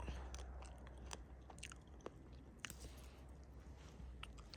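Someone chews freshly picked blackberries close up, with soft wet crunching and squishing bites repeating over a few seconds, quiet and alone.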